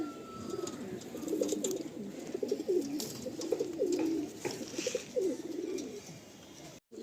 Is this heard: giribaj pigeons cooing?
yes